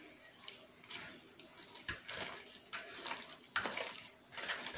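Oil poured slowly into a mixing bowl while sablé biscuit dough is stirred with room-temperature butter; quiet, close, irregular wet swishes and soft liquid bursts come and go, with no voices.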